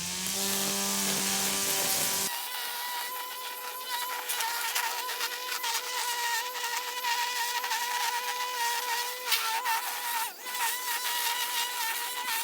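A 2020 Harbor Freight Atlas battery string trimmer kicks on after about two seconds and runs steadily, giving a close, loud, continuous high-pitched whirring whine that holds through to the end.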